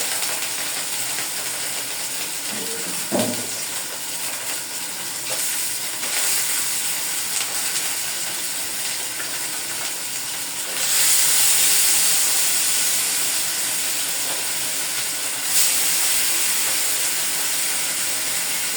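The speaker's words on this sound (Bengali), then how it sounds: "এখন আমি মাছগুলো দিয়ে দিব ফ্রাই প্যানে। আমার ফ্রাই প্যানটা অতিরিক্ত গরম হয়ে গিয়েছে।" Catla fish frying in an overheated frying pan, a loud, steady hiss that runs throughout and swells partway through, with a brief clatter near the start.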